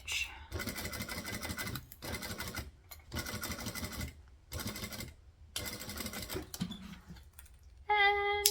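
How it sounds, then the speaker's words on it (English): A sewing machine stitches a handmade purse in short, rapid bursts separated by brief pauses, close and fairly quiet, with someone speaking softly between runs. "Angle, stitch, needle down, pivot,"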